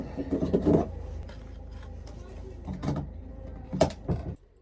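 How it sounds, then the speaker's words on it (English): A door in a large three-bed end-terrace house in the UK is pushed shut with a few knocking thuds and a firmer closing bump near the end, while a voice can be heard faintly. "Shut the door."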